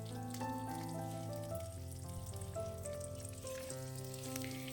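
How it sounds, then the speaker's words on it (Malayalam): Thinly sliced onion sautéing in a hot pan, a steady close sizzle and crackle with no talking. "ഇനി സവാളയും വഴറ്റിയെടുക്കണം"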